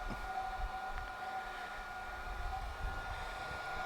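A newly built forge firing on its first shakedown run, giving a quiet, steady breathy roar like rushing air, with an even, continuous hiss and no talking.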